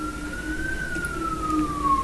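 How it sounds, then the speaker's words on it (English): A siren wails steadily outside, its pitch rising and then slowly falling as an emergency vehicle goes by, carried over low rumbling road traffic. "You hear those sirens?"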